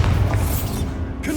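Bombarda spell blast in Hogwarts Legacy, a short, deep, loud boom with rumbling low end that fades within about a second, followed by a brief whooshing tail.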